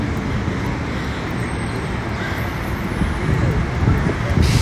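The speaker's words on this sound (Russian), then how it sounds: "А тут, знаете ли, едет большой автобус, и он вот сейчас поворачивает." A large city bus drives and turns on a Philadelphia street, its steady low rumble blending into continuous traffic noise that swells slightly toward the end.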